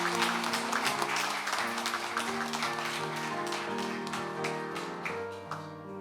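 Church congregation applauding after a baptism during a Sunday Methodist service, moderate clapping over sustained organ or keyboard chords, gradually tapering over six seconds.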